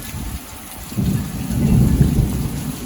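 Steady rain pours down with low, rolling thunder rumbling through and swelling louder in the second half.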